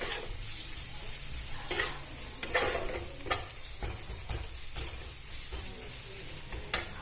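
Chillies and Kashmiri chillies fry together in a pan for a chicken kosha, giving a steady close sizzle broken by several sharp spatula scrapes and stirring clinks.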